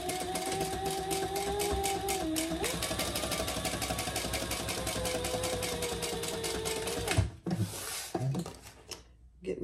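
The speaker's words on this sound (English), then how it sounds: "and then we're gonna top stitch" Sewing machine top stitching a sling bag, a steady fast mechanical rattle of needle strokes up close, stopping near the end followed by brief handling noise.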